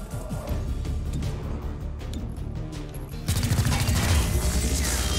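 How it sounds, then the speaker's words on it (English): A blast goes off in the video game XCOM: Chimera Squad. Clattering, crackling action gives way to a loud burst that leaves a sustained roar, heard close and with no talking. "That was a bigger explosion than I thought it would be."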